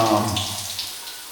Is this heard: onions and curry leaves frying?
no